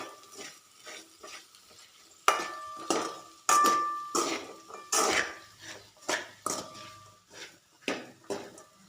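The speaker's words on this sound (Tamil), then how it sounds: "இப்போ சேர்த்த மசாலாவெல்லாம் நல்லா வதக்கி விட்டுக்கலாம்" Masala is stirred and sautéed in oil for a jackfruit seed fry, with rhythmic scraping clanks of a spatula against the pan every second or so over a faint sizzle, close and alone.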